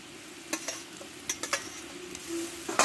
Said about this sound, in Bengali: দেখো ঝোলটা ফুটে উঠেছে ঝিঙেটা আমি দিয়ে দেবো এতে